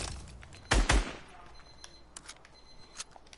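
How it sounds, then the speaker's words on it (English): A short burst of assault rifle fire from a scar in the video game Fortnite, two quick loud clusters followed by faint clicks and taps. "But when you're shooting someone with the AR,"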